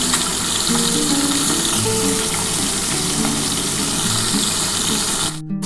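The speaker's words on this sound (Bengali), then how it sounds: "প্রথমে আমি এই মাছগুলো আগে ভেজে তুলে নেবো" Bhola fish fries in a pan of hot oil, a loud, dense, continuous sizzle held steady throughout, close up and without voices.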